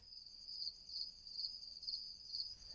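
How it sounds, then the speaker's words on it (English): Crickets chirp steadily in a high, pulsing trill, repeating in regular bursts against a quiet background. "Those are crickets making their evening sounds."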